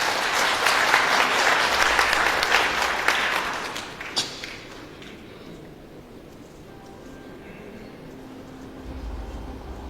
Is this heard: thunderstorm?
no